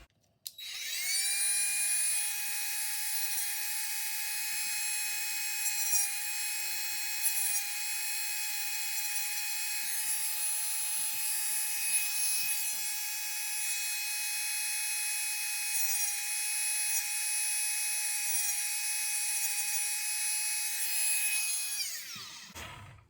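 A Dremel rotary tool works on Victorinox knife scales, a high, steady whine that spins up, holds its pitch with brief grinding scuffs for about twenty seconds, then winds down, close and loud with no speech.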